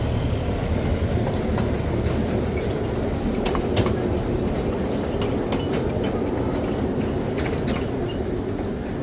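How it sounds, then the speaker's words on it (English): Trains running through a theme park in Thailand, with a steady rolling rumble and a few faint clicks of wheels on track, continuous and fairly loud with no talk. "there are plenty of trains in this park, even including a monorail"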